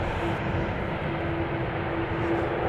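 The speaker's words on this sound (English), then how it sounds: "KLM Flight 652 that has just landed, an A330-200 arriving from Washington" A KLM Airbus A330-200 landing at Schiphol gives a steady, moderately loud broadband engine rumble with a faint sustained tone running through it.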